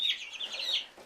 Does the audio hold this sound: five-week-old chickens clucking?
yes